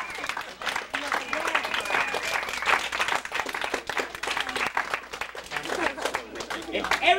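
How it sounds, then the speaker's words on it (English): Parents clap after children's karate demonstration, irregular hand claps of a small crowd mixed with voices talking, moderately close and lively throughout. "Parents should applaud."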